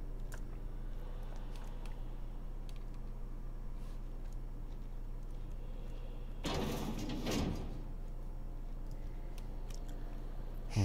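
A sliding door opens in The Outer Worlds, a brief whooshing hiss rising about two-thirds of the way in over a steady low background hum.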